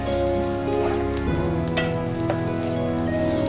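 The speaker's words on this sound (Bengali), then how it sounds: "হলুদ, কাশ্মীরি লঙ্কা গুঁড়ো দিয়ে ওই 2 মিনিট মতো ভাজছে" Gobindobhog rice frying in a pan with turmeric and Kashmiri chilli powder for khichuri, a close steady sizzle with a few clinks and stirring scrapes, alone without talk.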